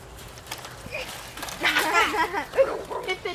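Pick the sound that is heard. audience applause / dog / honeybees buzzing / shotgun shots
dog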